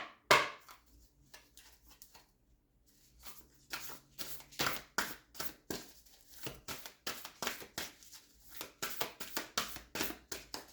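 Tarot cards are shuffled close up, giving a run of crisp riffling slaps and soft taps in an irregular rhythm, faint at first and growing steadier and louder.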